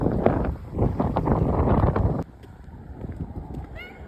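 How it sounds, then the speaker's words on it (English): Strong wind buffets a microphone outdoors in freezing weather in heavy rumbling gusts for about two seconds, then drops to a quieter, lighter rustle. "It's pretty windy out here"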